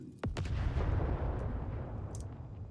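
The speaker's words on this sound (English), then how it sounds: "another explosion goes off" Explosion in the video game Rogue Trader: a sharp onset followed by a deep, sustained rumbling roar that slowly fades over a couple of seconds, with no talk.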